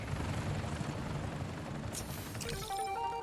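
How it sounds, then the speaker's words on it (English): Helicopter in Marvel's Spider-Man: Miles Morales, a steady loud rotor drone with low chopping pulses, joined near the end by brighter game effects and tonal electronic beeps. "Helicopter will be okay, and you just look at it flying towards a big building"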